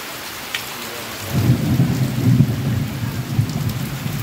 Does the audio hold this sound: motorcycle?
no